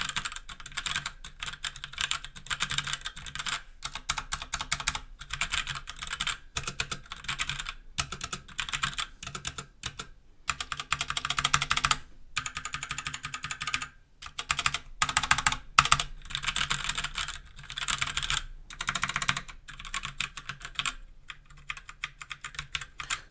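Someone types on a Roccat Suora keyboard with TTC Brown tactile switches in dense, rapid clicking bursts with short pauses between runs, close and clear and with no voices.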